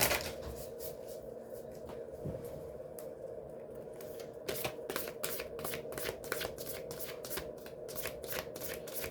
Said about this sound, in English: let's go ahead and get a chakra card for the collective